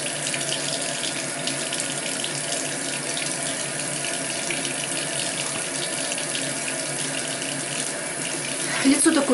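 Steady water streams from a tap into a sink while a face mask is rinsed off, a constant close hiss with faint splashing near the end.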